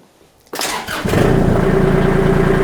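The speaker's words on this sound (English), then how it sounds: "Start the tractor." Kubota L2501 compact tractor diesel engine cranks briefly, catches and settles into a loud, steady idle close by, with no voices.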